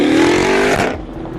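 A Nissan R35 GTR engine blares in a loud, high rev outdoors on a city street, then drops off sharply as the throttle closes, leaving a lower idle.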